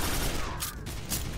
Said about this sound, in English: He's gonna have a machine gun.